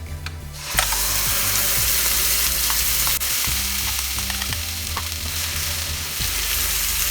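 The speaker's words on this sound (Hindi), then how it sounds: "अभी जो एक ग्रीन पीस का पेस्ट है ये भी ऐड कर देते हैं।" Green pea paste for Bengali koraishutir kochuri sizzles loudly in a pan over medium heat, a dense continuous fry with scraping stirs and clicks of a spatula, no voices.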